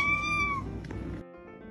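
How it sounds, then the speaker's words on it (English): A male cat meows once, a clear, close, drawn-out meow that fades into soft indoor background noise. "He was meowing at me, following me around."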